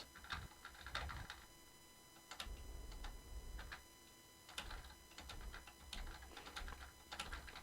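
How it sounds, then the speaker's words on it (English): Clicky 1996 computer keyboard, with irregular bursts of sharp key clicks and clacks in quick runs separated by short pauses, faint and close, with no talk. "If you hear my keys are like really clicky, it's because I'm using a keyboard from like 1996."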